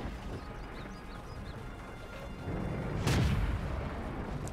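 A tank's main gun in a tank video game fires a single loud, deep boom partway through, over a steady low engine rumble and battle ambience, with no talking.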